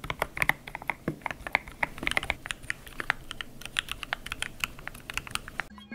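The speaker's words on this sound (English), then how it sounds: "you can even change the sound of the keyboard to creamy or clicky" Virtual keyboard clicks from XSOverlay in VRChat patter in a fast, uneven stream of crisp taps, close and fairly quiet, with no voices, ending abruptly.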